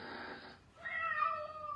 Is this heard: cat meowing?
yes